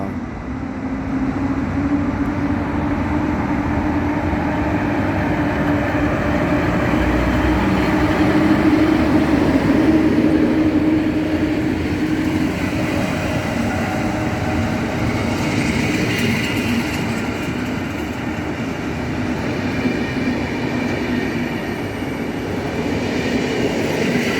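A train pulls away from a station, with a steady low rumble of rolling stock, rhythmic clickety-clack of wheels over rail joints and faint wheel squeal, heard from nearby without any talking.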